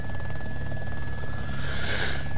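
A helicopter engine whines in the video game DayZ Epoch, a steady faint rotor hum with a thin high tone that swells briefly near the end.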